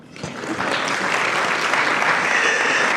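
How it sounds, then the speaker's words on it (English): Loud, sustained applause from a large audience rises quickly and holds steady as a dense wash of clapping, with no voices standing out. "You can clap for that."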